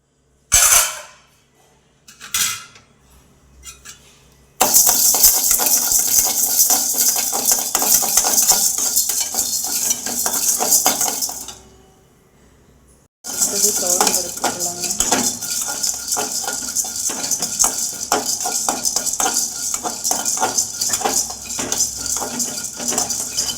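Toor dal is dry-roasted in a metal pan while a spoon stirs it, giving continuous loud rattling and scraping. A few separate clinks come first, and there is a short pause in the middle.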